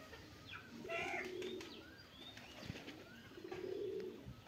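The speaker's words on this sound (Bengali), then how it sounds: "কবুতর এখানে বসে এখন খাবার খাচ্ছে।" A pigeon coos softly while eating, giving low repeated cooing phrases at the start and again near the end, with faint chirps from other birds and light outdoor background noise.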